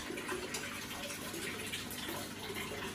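Water pours steadily into a turtle tank, a constant full rush of splashing and gurgling that stays loud and even throughout, with no voices.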